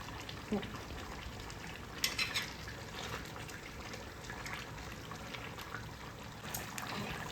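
Chicken frying and being stirred in a pan for chicken kosha, with a steady soft sizzle broken by a few sharp scraping clinks of the spoon.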